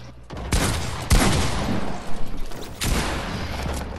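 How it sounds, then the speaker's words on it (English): Rapid gunfire bursts in the Fortnite video game, a string of sharp cracks and rattling volleys hitting the player, loud and close with brief gaps between bursts. "I got shot."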